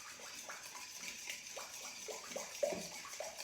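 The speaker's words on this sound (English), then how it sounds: "Stir it all in until it all mixes." A tiropitakia cheese-pastry filling mixture is stirred in a bowl: soft, wet, quiet squelching with a few light utensil scrapes and taps, steady and close with no voices.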